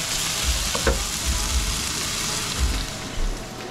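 A salmon head sautéing in a pan with tomatoes for sinigang, giving a steady close sizzle with occasional soft stirring bumps.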